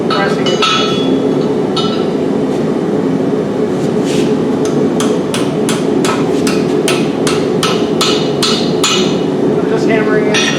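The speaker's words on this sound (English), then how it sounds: "Hammering it so that I can make sure I get a nice tight bend on here." Repeated sharp metallic hammer blows ring out as a steel rod is bent into a tight curve for a campfire tripod trammel hook, the strikes coming in quick bursts at close range over a steady background hum.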